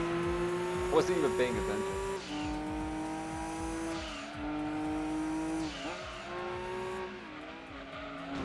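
A Toyota Supra in a racing video game, with a high revving engine whine that climbs and drops through gear changes and bursts of tire squeal, while someone talks over it.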